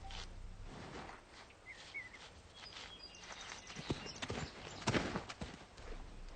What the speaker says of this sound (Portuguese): Os cavalos locomovem-se enquanto pastam.